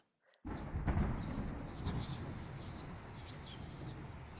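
A storm in the video game The Lion's Song, set in Vienna: a sudden loud onset of rumbling thunder and heavy rain that holds steady near and loud throughout, with faint high chirping over it.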